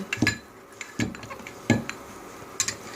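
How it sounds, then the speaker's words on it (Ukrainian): A pestle knocks and scrapes in a mortar grinding poppy seeds a few times, quiet and close, with short pauses between strokes. "Саме отак у ступці його треба терти."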